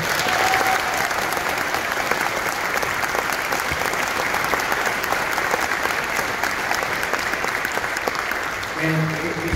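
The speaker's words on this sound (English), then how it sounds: "how about applause for the RCC concert band on the stage?" Sustained applause from a concert audience for a college concert band on stage, steady and dense throughout, easing slightly near the end.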